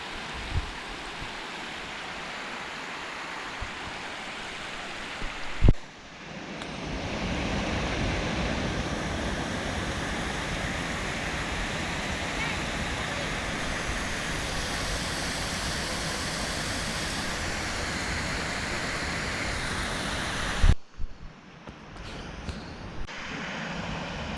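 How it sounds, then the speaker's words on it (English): A waterfall at Caesar Creek State Park gives a steady broadband roar of rushing water for about fifteen seconds, starting and stopping abruptly, with quieter outdoor noise and faint wind before and after. "There's the waterfall we were just at."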